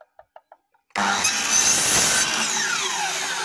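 A few light clicks give way to a power saw starting with a sudden loud whine and cutting steadily into a wooden board at close range, the tone shifting as the blade bites through.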